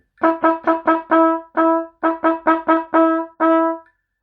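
Cornet or trumpet plays a steady rhythm up close: four short tongued notes then two longer held ones, with the pattern played twice for twelve bright, ringing notes and no voices.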